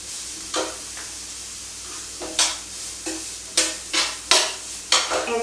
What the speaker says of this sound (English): First I will saute the onion.